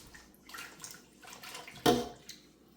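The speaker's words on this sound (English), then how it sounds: "So we're gonna rinse it off like 2 to 3 times, guys, just to make sure it's nice and clean." Tap water runs over raw pork chops in a kitchen sink, a steady splashing rinse with a sharp louder gush near the middle.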